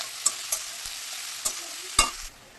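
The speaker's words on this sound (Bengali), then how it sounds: "পেঁয়াজটা ভাজা ভাজা হবে আমার" Steady sizzling of onions frying in a pan, with a few scraping stirs and clicks of a utensil, no voices.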